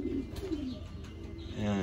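Soft pigeon coos rise and fall inside an indoor loft, low and gentle over a constant hum, with a faint voice briefly present.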